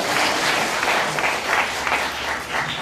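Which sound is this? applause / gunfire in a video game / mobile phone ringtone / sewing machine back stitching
applause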